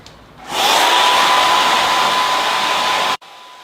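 A hair dryer blows hair dry during an A-line haircut, switching on with a steady loud whooshing roar that holds evenly for several seconds before cutting off abruptly, close and alone with no voices.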